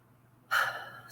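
One deep, sudden breath drawn in during a guided meditation, close and breathy, rising sharply and then trailing off.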